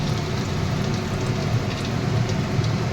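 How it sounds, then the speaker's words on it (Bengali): Cardamom pods sizzle as they are tempered in hot oil in a pan, a dense, even crackling hiss that stays steady and fairly loud throughout with no voices. "তেল দিলাম, একটু এলাচ ফোড়ন দেবো, একটু এলাচ ফোড়ন দিয়ে দিলাম।"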